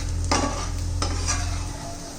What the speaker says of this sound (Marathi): चांगलं 2 मिनिट आपण चांगलं परतून घेणार आहोत कांद्याबरोबर बेसन